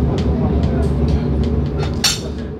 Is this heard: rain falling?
no